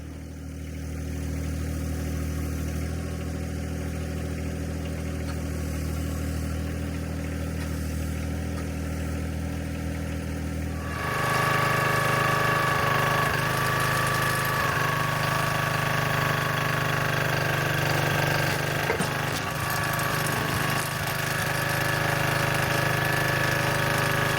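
John Deere 1025R compact tractor engine idling steadily up close, a low even drone that jumps to a louder, brighter, busier running tone about halfway through and holds there.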